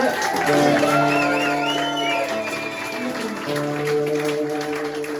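An audience at a live music event applauds and cheers as a band member is welcomed to the stage, a steady wash of clapping and crowd noise mixed with sustained musical tones.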